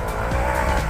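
Off-road car engine revving and tires slipping on a muddy, slick track at an extreme off-road event near an airport edge, a loud continuous drone with no talk over it.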